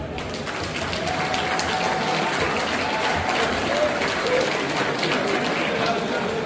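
An audience at a family gathering claps steadily and fairly loudly throughout, a dense continuous patter of many hands with faint crowd murmur underneath.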